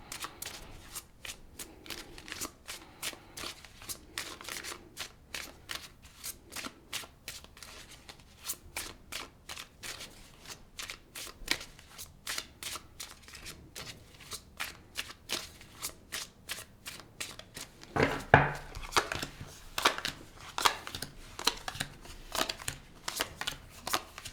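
Tarot cards handled and pulled from a deck, with rapid papery flicks and shuffling riffles repeating close up and quietly throughout, growing a bit louder toward the end, no speech.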